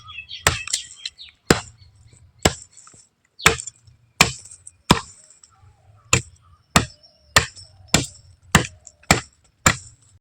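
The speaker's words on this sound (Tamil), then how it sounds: "தற்போது இந்த முருங்கைக்கிளையின் அடிப்பகுதியை வந்து கிராஸாக கட் பண்ணிக்கலாம்" Sharp, loud chops into the base of a broken moringa branch, a dozen or more separate strikes in an irregular rhythm that sound close to the listener, with no talking.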